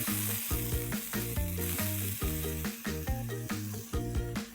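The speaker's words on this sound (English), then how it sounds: "Saute this on high flame till the onions kind of turn translucent" Onions, chilies and ginger sautéing on high flame, a continuous close sizzle under a repeating, rhythmic musical background that nearly swamps the frying.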